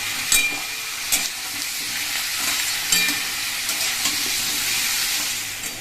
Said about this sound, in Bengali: আলু পটল ভাজা ভাজা হয়ে এসছে